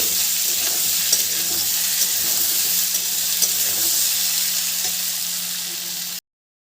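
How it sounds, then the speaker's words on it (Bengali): Pieces of elephant foot yam, already boiled with turmeric, fry in oil until reddish-brown with a loud, steady sizzle and occasional stirring clicks, then the sound cuts off abruptly. "ওল খুব সুন্দর করে ভাজা হয়ে গেছে বেশ লাল লাল করে"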